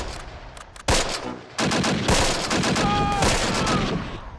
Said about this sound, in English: Ah, and they got a machine gun there as well.